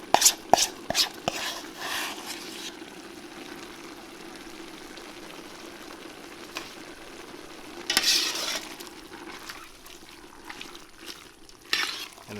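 Roux for a Cajun gumbo stirred in a pot, with a soft continuous sizzle broken by scraping clatters of the spoon at the start and again near the middle and end.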